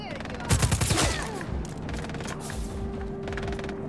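Rapid gunfire in Just Cause 4, a loud cluster of shots near the start followed by scattered, fainter bursts over a steady hum, with a voice speaking amid the action.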